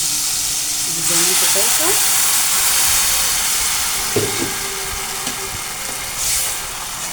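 Tomatoes hit a hot pan for an Egyptian pasta sauce, giving a steady close sizzle and hiss that runs the whole time, with a voice speaking briefly over it.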